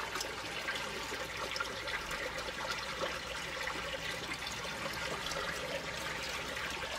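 Water churning in a pool in the adventure game Unavowed, a steady rushing, bubbling wash with fine trickling texture, continuous and even, with no talk over it.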